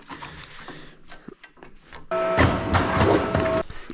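Sheet metal for a duct plenum panel is cut by machine, a loud dense grinding-buzzing run of about one and a half seconds that follows a few quieter clicks and handling knocks.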